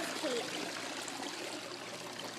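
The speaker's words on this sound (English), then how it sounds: "What waterfall is this called?" Water streaming and trickling at a waterfall, a faint steady hiss of flowing water continuing throughout with no talk.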